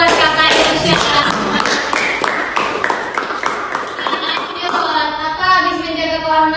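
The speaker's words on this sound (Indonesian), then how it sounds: "Kita beri tepuk tangan dulu buat Kakak Irsyad." Classroom clapping for a student at an Islamic senior high school lesson, a burst of quick, loud, fairly close hand claps from a group that thins out toward the end.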